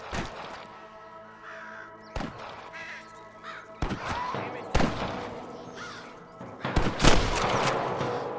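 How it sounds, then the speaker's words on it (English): Gunfire in the video game Red Dead Redemption cracks out in a few loud, widely spaced shots among ambient game sound, with a voice speaking now and then. "I can hear more gunshots."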